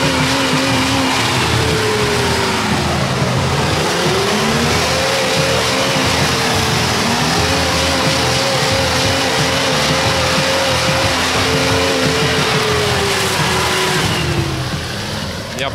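Off-road vehicle grinding through a deep rut on a mountain track, engine loud and continuous with rising and falling revs as it eases back and then lunges forward, close and steady throughout.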